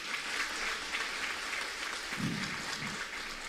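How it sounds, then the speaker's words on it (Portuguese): A church congregation applauds during a sermon, a steady wash of many hands clapping at moderate level, with a brief low voice rising partway through. "Aplaude o teu Deus,"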